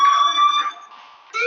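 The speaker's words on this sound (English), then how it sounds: "do you hear that fire alarm? That means you should be outside." A fire alarm in the Life is Strange video game rings with a loud, steady electronic tone, then drops away briefly before sounding again.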